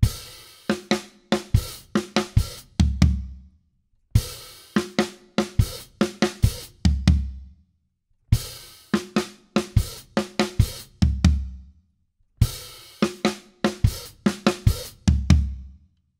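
A drum fill repeated four times, each pass a quick run of open hi-hat and snare hits that ends on floor tom and bass drum notes, close and punchy with short silences between passes and no voices.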